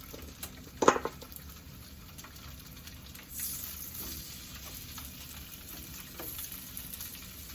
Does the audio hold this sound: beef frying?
yes